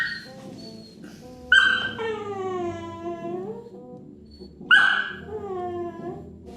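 A dog waiting to be fed whimpers and whines in two high, drawn-out bursts that slide downward in pitch, separated by quieter snuffling, fairly close with no talking.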